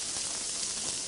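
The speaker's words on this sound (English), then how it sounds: "And that's what you want to hear, that sizzle." Oil sizzles in a very hot pan in a restaurant kitchen, a steady, soft, broadband hiss and crackle heard close by on its own.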